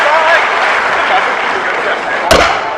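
Inside a parliament chamber, scattered clapping carries under a steady murmur of voices and room noise, with one sharp knock or thud near the end.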